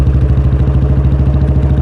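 A tractor works a village field, a loud steady engine chugging with rhythmic clattering pulses throughout, close by and continuous with no talk.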